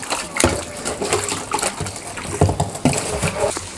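Grass carp fish bones being rinsed clean of blood under water in a kitchen, close splashing and sloshing with irregular sharp knocks from handling.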